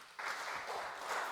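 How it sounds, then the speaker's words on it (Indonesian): Church congregation at a Sunday worship service in Tokyo bursts into applause, a brief, moderately faint spell of clapping that starts abruptly and holds steady. "Berikan tepuk tangan."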